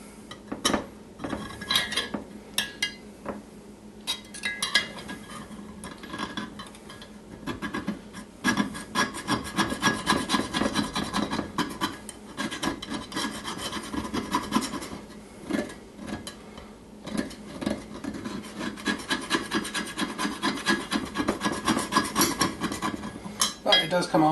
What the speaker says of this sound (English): So unfortunately the scraping process is still required.